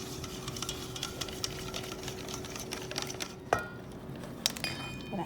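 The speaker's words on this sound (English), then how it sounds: "And whisk that in." A whisk beating crepe batter for Ukrainian nalysnyky in a bowl, a quiet fast continuous rattling stir with a few sharp clinks against the bowl, no talking.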